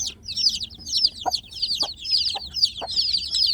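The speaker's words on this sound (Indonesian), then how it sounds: "Bila anak ayam kampung ada di dalam box ini tanpa induk" Newly hatched village chicks huddled in a box without a mother hen, giving a steady stream of high, rapid peeping chirps close by, with a few soft lower clucks breaking in at intervals.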